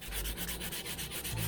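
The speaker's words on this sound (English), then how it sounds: "We're just sanding the sticker off?" Sanding a sticker off the clear-coated frame of a Lectric XP e-bike, a steady close abrasive rubbing with a repeated back-and-forth scrape rhythm throughout, loud and alone with no talk.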